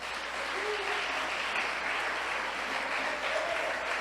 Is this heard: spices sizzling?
no